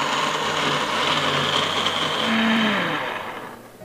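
A blender whirs steadily as it purees bilimbi fruit flesh with a little water, a dense, loud motor hum holding for a few seconds before a brief pitch shift and tapering off at the end.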